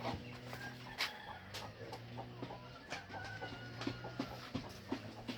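Chickens cluck inside a fenced poultry enclosure beneath a village house in Khedu Para, Alikadam, Bandarban, soft repeated clucks and short calls, faint and somewhat distant over a low steady hum, with no talking.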